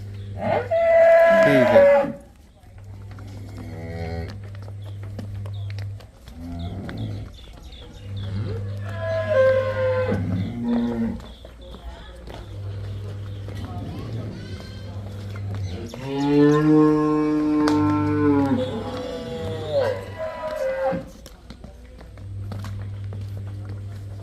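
Cows on a farm offered for sale low repeatedly in long, harmonic moos. The moos are close and loud and come at several points across the clip, with a low steady hum underneath.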